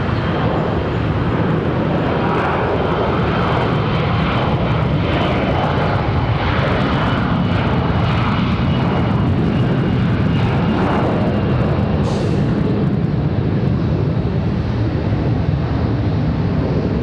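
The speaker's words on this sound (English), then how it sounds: "we got our first departure on 18 center" An airliner departs runway 18 Center at Charlotte Douglas airport, its jet engines roaring loudly and steadily with wind buffeting the microphone, swelling slightly as the aircraft climbs away.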